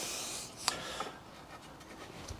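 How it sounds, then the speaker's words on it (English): Soft rubbing and scraping as garden soil is lightly brushed by hand over freshly sown vegetable seeds in a drill, a faint, close, brief sound with a couple of small taps. "Just lightly cover them in soil"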